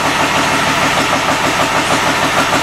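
A 10 HP diesel engine on a Roper/Sears garden tractor runs steadily in a cold garage, its rough, even idle close and loud throughout, with no talking.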